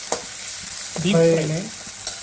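Vegetables frying in a pan for Maggi noodles, stirred once with a short scraping, sizzling burst around the middle over a steady low kitchen hiss, with no talking.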